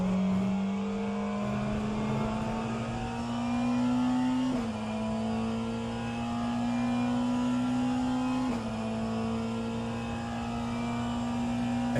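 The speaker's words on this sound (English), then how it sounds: "of driving the CLK GTR Mercedes around Le Mans without the Mulsanne chicanes." A Mercedes CLK GTR race car screams around Le Mans in a racing game, one steady, loud engine note that climbs through each gear, drops sharply at two upshifts and keeps droning throughout.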